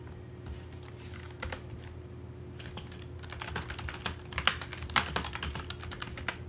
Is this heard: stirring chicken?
no